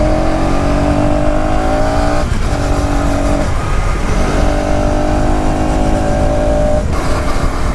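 Single-cylinder engine of a 2026 KTM Duke 250 revving hard on a road ride, a loud continuous drone with steady harmonic pitch that dips briefly twice between gear changes, wind noise throughout, no talking.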